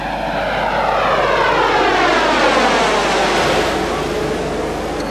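A Jaguar military jet lands during the 1990 Daguet operation, its engine roaring loud and steady with a falling whine that sweeps down over several seconds and nobody talking.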